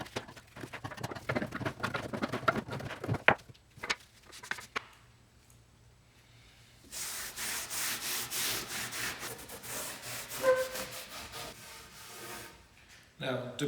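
Special walnut wood stain rubbed onto an IKEA wooden light fitting with an old rag by a gloved hand, giving uneven scraping and rubbing strokes, a quiet pause, then a longer run of steady rhythmic rubbing.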